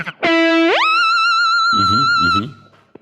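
An electric guitar runs through a Kemper Profiler with a pitch-shift effect in a Tom Morello-style tone, giving one loud sustained note that sweeps sharply upward and holds before a short lower warbling tail.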